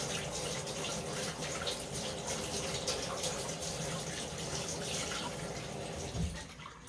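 Tap water runs steadily to rinse oil off a bottle, a continuous close gushing splash that shifts slightly near the end.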